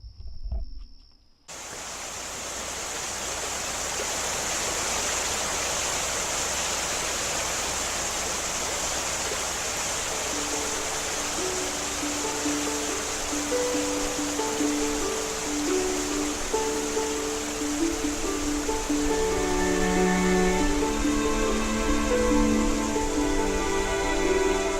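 Wilson Creek, a wild and scenic river in Pisgah National Forest, rushes in a steady, dense wash of flowing water that holds unbroken for the whole stretch, with faint tonal notes entering near the end.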